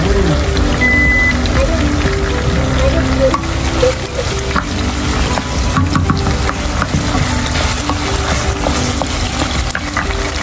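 Chicken browning with garlic in a hot pan for adobong sitaw, a loud steady sizzle and crackle with occasional stirring scrapes.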